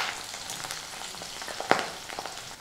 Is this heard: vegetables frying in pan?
yes